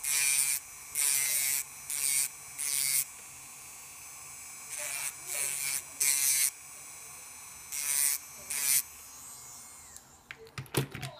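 Rotary tool with a polish head shaving a 1.5 mm carbon rear underguard for a Tamiya Mini 4WD car, in about ten short high-pitched buzzing bursts with pauses between, close and alone.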